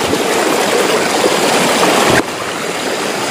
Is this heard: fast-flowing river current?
yes